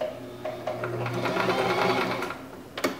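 A sewing machine runs a short burst of stitching on a pillow, a close, rapid mechanical whir with a soft pulse, then a couple of clicks as it stops.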